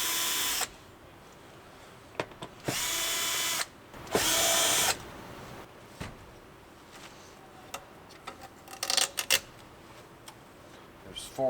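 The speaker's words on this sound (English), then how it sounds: "Remove the 4 screws in the corners." A power screwdriver backs out corner screws while a Hisense HK570 terminal is taken apart, giving several short, loud whirring bursts with quiet pauses between them, followed by faint clicks and handling noises.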